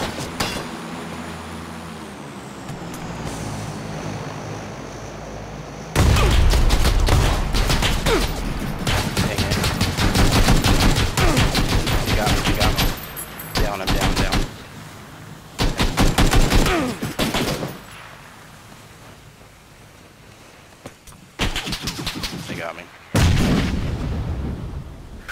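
Bursts of rapid gunfire from the video game PUBG (Battlegrounds), loud and close, with several sustained volleys separated by short quieter gaps.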